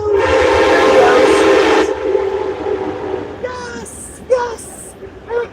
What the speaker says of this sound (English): Now that is the Amtrak train that runs.